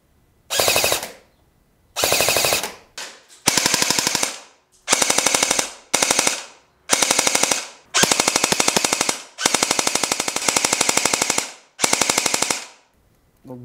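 A Sten MKII airsoft replica fires BBs in a series of loud, close, rapid full-auto bursts, each about half a second to a second long with short pauses between, no talking.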